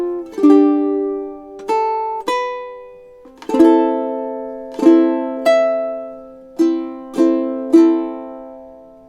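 Solo ukulele plucking and strumming two measures of a theme, close and clear, with a few bright chord attacks that ring and decay between beats, no talking.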